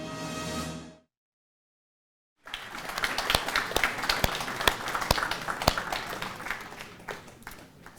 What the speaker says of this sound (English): So another generous round of applause for all our sponsors